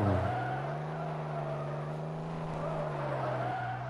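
A Thar jeep drifts in an offroad simulator game, its tires squealing in one long, loud, steady screech over engine noise for the whole stretch.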